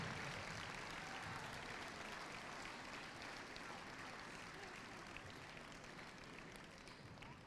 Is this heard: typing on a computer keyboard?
no